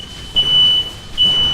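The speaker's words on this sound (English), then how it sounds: "the smoke detector is going off." A smoke detector alarm sounding during a StarCraft match broadcast, giving two sustained high-pitched beeps separated by a short gap over a low background of game sound.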